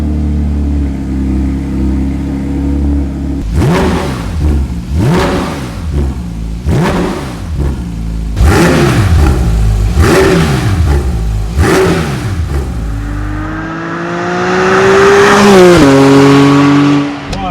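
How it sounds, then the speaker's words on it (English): A Porsche 992 GT3 with a new Milltek exhaust fires up and is blipped repeatedly, a loud series of sharp revs rising and falling in quick succession, then a long climbing rev before settling. "This is going to be first cold start with the new Milltek exhaust."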